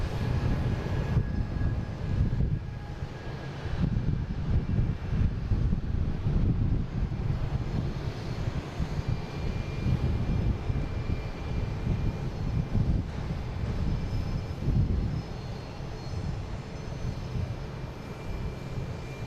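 An Airbus A220 airliner on flight 811 at Boston Logan gives a steady, distant jet rumble with broadband wind-like roar that holds level for about twenty seconds, with no voices.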